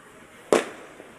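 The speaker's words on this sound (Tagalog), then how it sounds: "Ganda ng fireworks, no?" A single loud New Year firework burst, one sharp close blast that decays quickly, with a faint pop just after and no talking.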